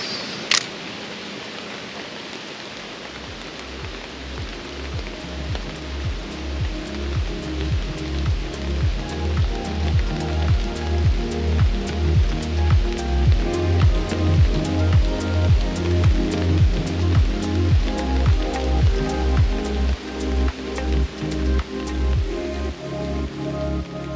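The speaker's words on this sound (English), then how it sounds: "it sounds like it's raining. It's really raining." Steady rain patters on a surface, with a rapid, regular clicking rhythm building underneath and continuing throughout.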